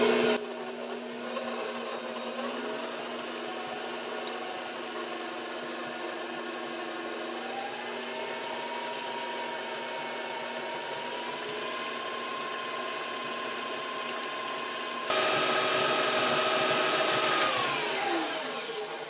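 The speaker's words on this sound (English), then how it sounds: "I went ahead and put my paddle attachment on, and I'm going to give this a mix" A stand mixer with a paddle attachment beating brown sugar in a bowl for sweet Hawaiian-style rolls: a steady motor whir with shifting pitch, rising briefly louder near the end before winding down.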